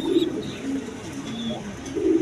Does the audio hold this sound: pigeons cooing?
yes